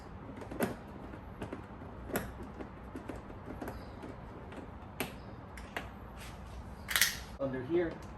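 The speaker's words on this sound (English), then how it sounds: "Let's go ahead and pop this reflector out first." Plastic trim clicks and small snaps as a reflector is pried out of a Tesla Model Y door panel, ending in a louder scraping pop near the end.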